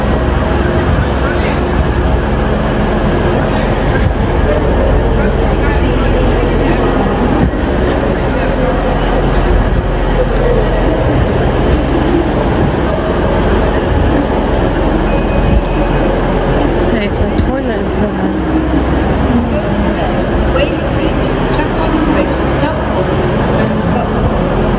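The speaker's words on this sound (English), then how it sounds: "Assuming this is the train." A train rumbles loud and continuous at a station platform, a dense steady roar of rail noise filling the whole stretch, with voices talking faintly beneath it.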